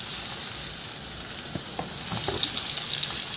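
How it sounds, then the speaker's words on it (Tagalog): Onion and tomato sauté in a hot pan, a steady soft sizzle with a few clicks and scrapes of stirring, close and without voices. "ihalo hanggang sa maluto at maglagay na rin ako dyan ng kamatis"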